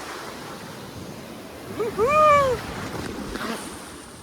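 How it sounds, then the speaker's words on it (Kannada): Sea waves wash onto the beach at Mangalore with a steady, close rush of surf under gusty wind, while a voice briefly calls out over it. "ಅಲೆ ನೋಡಿ, ಅಲೆ ಹೆಂಗೆ ಬರ್ತಿದೆ ಅಂತ"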